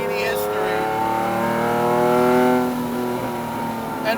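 A Lamborghini Diablo SVR factory race car engine holds a rough, droning rev that swells and fades, heard close and continuous with a voice speaking over it.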